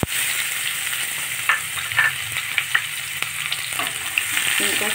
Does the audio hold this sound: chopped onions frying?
yes